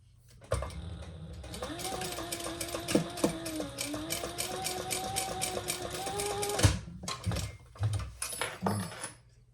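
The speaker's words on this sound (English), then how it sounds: "I'm going to do 2 rows of stitching." Sewing machine running steadily while stitching rows into a faux suede crossbody bag, a continuous rapid mechanical whir with a rising pitched motor tone, then stopping for several short separate bursts and clicks near the end.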